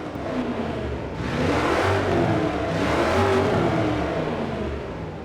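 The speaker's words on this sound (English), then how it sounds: "Give this thing a start up and listen to this stock engine." The stock V6 engine of a 1976 Jeep CJ5 Renegade in Forza Horizon 4 starts up and revs, a loud rumbling engine that swells and sustains with no talking over it.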